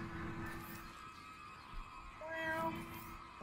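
A couple of quiet cat meows, one in the middle and a drawn-out one near the end, heard faintly against low background noise.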